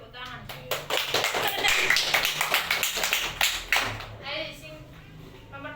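A fourth-grade class bursts into brief applause during a Javanese language lesson, with a dense patter of many small hands that swells and fades over a few seconds while voices carry on around it.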